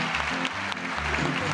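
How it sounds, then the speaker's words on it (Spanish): A studio audience on a talk show applauds the guests with steady, moderately loud clapping, while a low musical tone or hum sits underneath. "¡Un aplauso para los invitados!"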